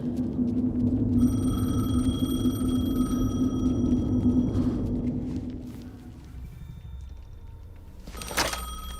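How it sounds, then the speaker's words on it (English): Telephone ringing in the video game Alan Wake 2, a steady electronic ring with sustained tones under a low rumbling game ambience, fading out before a sharp burst near the end. "The phone again."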